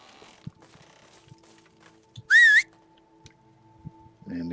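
A short warbling whistle rings out once to summon a horse in a video game, clear and loud amid quiet footsteps and soft game sounds, followed by faint hoof movement.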